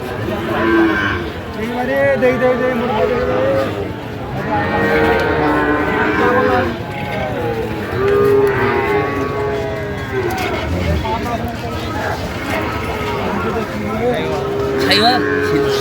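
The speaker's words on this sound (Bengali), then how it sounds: "আমরা দেখছিলাম যে গরুগুলো কিনছেন শাহাদত ভাই" Sahiwal cattle at a livestock market in Cox's Bazar moo repeatedly in long, loud calls, close and overlapping, amid crowd noise and people talking.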